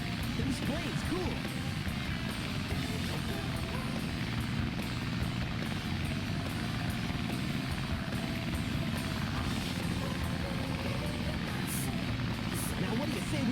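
Tails's small propeller plane in the Sonic Adventure DX game drones steadily and loudly throughout, a dense continuous engine roar with faint higher chirps near the end.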